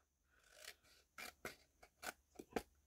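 Scissors cut out a paper shape for a steampunk craft piece, a series of separate close snips and slicing crunches with short pauses between them, quiet and without speech.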